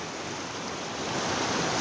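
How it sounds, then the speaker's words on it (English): A river running high with spring flow near a wildflower bird preserve, a dense, constant roar of rushing water, close and steady with no talk. "The river's pretty high."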